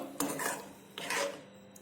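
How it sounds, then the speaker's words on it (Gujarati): Two brief scraping clinks of a spoon stirring buttermilk into spices in a metal cooking pot for a Gujarati shaak, close and quiet. "તો આપણે મસાલા સાથે છાશને મિક્સ કરી લઈશું"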